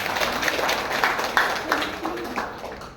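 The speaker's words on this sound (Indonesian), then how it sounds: "Kita tepuk tangan untuk Ibu Nur." Applause at a farewell ceremony for a retiring teacher at an Indonesian primary school, steady broadband clapping from a seated audience filling the full three seconds at moderate level, with faint voices mixed in.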